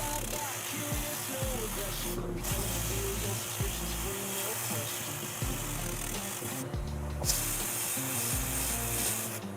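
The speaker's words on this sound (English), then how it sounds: "The little mop sander works good." A small mop sander buffs and sands a carved wooden spoon, giving a steady close whirring rub with a constant motor drone throughout and two brief breaks where contact drops away.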